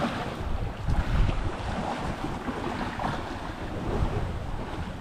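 Small outrigger yacht pounding through choppy sea, with continuous rushing water, wave slaps against the hull and heavy wind buffeting close to the microphone.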